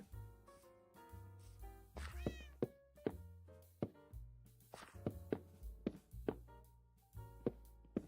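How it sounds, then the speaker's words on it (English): Cat meowing repeatedly up close, with several tonal, rising-falling meows spread over the stretch, mixed with soft thumps and knocks. "Kitty cat pushing me around."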